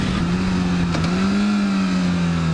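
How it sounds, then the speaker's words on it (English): A steady car engine drones with a thin transmission whine in first gear riding on top, rising slightly in pitch as the vehicle pulls forward. "I can hear the sound of my transmission making that little whining sound"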